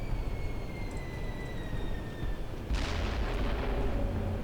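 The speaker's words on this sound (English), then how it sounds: "Did I call the airstrike, or do I have to actually click it?" An airstrike in the video game Black Mesa: a low steady rumble with whistling tones, then a heavy explosive blast and booming roar near the end.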